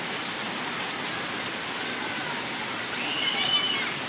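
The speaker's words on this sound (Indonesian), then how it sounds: "Hujan-hujan. Hati-hati licin." Heavy morning rain pours steadily as a broad, even hiss over a road on the way to school, constant and fairly loud for the whole stretch, with a slight swell near the end and no clear talk over it.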